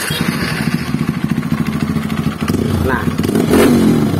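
A Honda CRF trail motorcycle with a worn-out engine starts and runs roughly, a close, uneven chugging idle with a brief rev rising near the end and someone talking over it.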